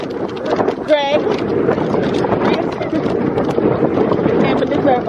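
Strong wind at the Blue Lagoon in Jamaica buffets the microphone in a loud, continuous rumble, with someone talking over it.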